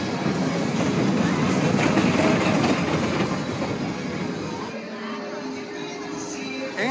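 A kiddie roller coaster rumbles and clatters along its track on an amusement pier at Seaside Heights, New Jersey, with a steady rolling roar that eases and fades toward the end while a voice talks over it.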